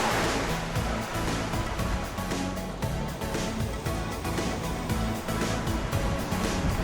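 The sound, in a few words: sea waves on the Cinque Terre coast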